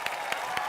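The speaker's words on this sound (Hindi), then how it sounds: "चलिए जोरदार तालियां." Studio audience applause on a Hindi TV entertainment show, a short burst of clapping heard close and steady with a few sharper claps standing out.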